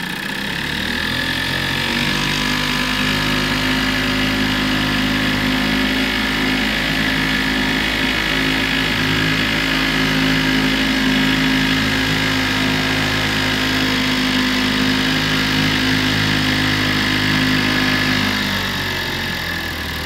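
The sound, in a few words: Sears outboard boat motor idling in neutral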